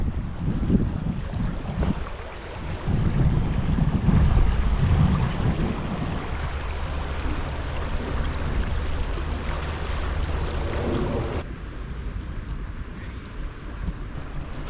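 A river swollen after heavy rain rushes past in a steady, broad wash of flowing water, fairly loud and close, with some wind buffeting and no talking.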